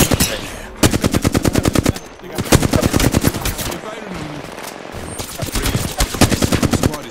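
Rapid automatic gunfire in the video game Apex Legends, loud and close, in several sustained bursts with brief pauses between them and faint voices underneath.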